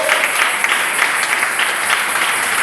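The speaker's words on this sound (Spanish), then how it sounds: "Denle un aplauso al Rey de Reyes y Señor de Señores." A church congregation applauds together, a dense, steady wash of many hands clapping at close range with no pauses, filling the space without any voices rising above it.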